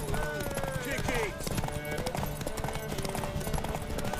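Horse hooves clatter in a fast galloping rhythm during a horse race in The Witcher 3: Wild Hunt, close and continuous, mixed with game voices talking over the hoofbeats.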